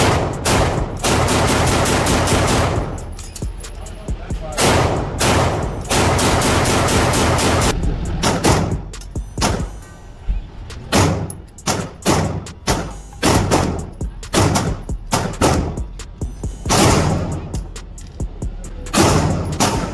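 An FN 509C Tactical pistol fired at a shooting range, with loud sharp reports in irregular bursts and quick strings of shots, broken by short pauses.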